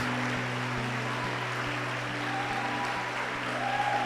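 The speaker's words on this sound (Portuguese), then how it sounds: "Aplauda Cristo." A church congregation applauds in sustained, dense clapping that stays steady and fairly full throughout, with a low hum running underneath and no speech.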